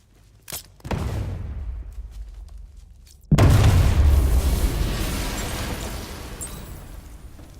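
A detonation goes off in a video game: a short pop and a crack, then a loud, close, booming blast that rumbles and slowly fades.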